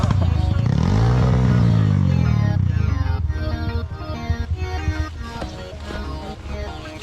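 Trail motorcycle engine labouring loudly on an off-road track on western Merapi, a strained droning rev that rises and wavers, then falls into uneven chugging and clattering bursts, close to the mic.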